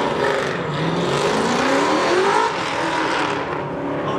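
A third-generation Chevrolet Camaro racing past at close range, a loud continuous engine roar that swells and holds with a hint of tire noise, no talking.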